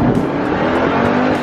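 Fast car accelerating hard, a loud close engine roar with dense broadband rush and steady high pitch through a short burst, no talk.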